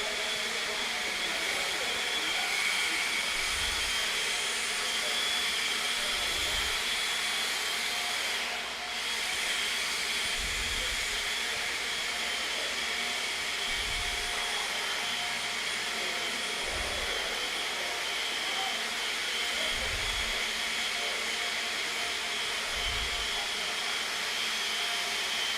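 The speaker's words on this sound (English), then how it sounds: "someone please grab those other 2 blowers" Electric blowers run continuously with a steady loud rushing hiss throughout, punctuated by regularly spaced low thumps about every three seconds.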